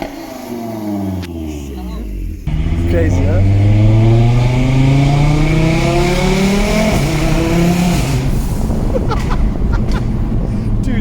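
Audi RS3 engine revving loudly, a harsh rising roar that holds strong and close for several seconds, with brief talk from people nearby.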